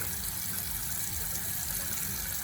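Water running steadily from a tap into a sink, an even rushing flow heard close and alone.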